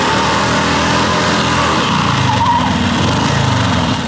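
A Harley-Davidson WLDR motorcycle engine runs at a steady idle, close and loud, with an even buzzing drone that holds throughout with no talking.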